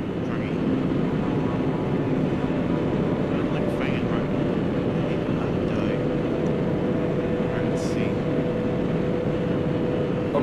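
Steady engine drone of a jet plane flying in the arcade flight game J.A.S.F., a continuous loud hum running unbroken, with faint higher whines and blips over it.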